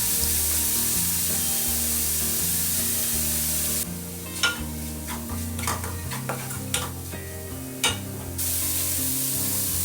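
Celery and onion leaves fry in a pan for a chicken fried rice, a steady close sizzle with a burst of stirring and scraping clatter in the middle.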